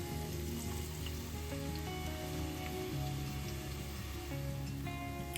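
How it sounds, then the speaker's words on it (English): Onions sizzle steadily in hot olive oil, a dense crackling fry that stays close and constant with no voices. "Let's add the onions to olive oil."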